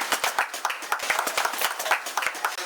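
An audience claps in a short burst of quick, uneven hand claps, heard faintly at a distance while a candidate is introduced on stage in a Magahi comedy sketch about an election.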